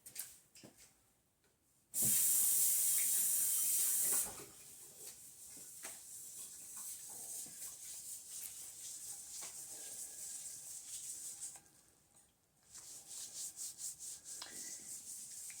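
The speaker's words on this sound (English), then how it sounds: "I got a little piece I could do a lather test with" A small piece of gardenia soap is lathered by hand under running tap water: a loud burst of rushing water, then continuous wet rubbing and squelching, with the stream returning briefly.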